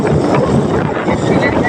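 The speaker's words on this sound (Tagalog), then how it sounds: "Mati kong simoy ng hangin." Sea breeze buffeting the microphone outdoors near Tabogon, steady rough rushing wind noise, loud and close throughout.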